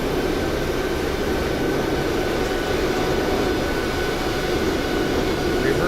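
Jet airliner rolling out after landing in Microsoft Flight Simulator 2024, a loud continuous broadband engine and airflow roar, steady throughout with no talk.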